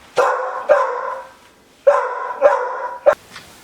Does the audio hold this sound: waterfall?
no